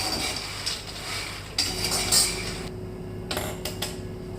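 Raw peanuts roast in a pan and are stirred now and then, giving close, dry rattling and metallic scrapes of a utensil against the pan in short bursts with pauses between, and no one talks.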